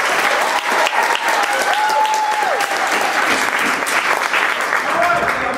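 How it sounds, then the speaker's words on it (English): Audience applause for the technical staff of a summer theatre production of Little Shop of Horrors, steady dense clapping filling the room at a constant level with a few faint whistles over it. "Let's give our tech staff a round of applause."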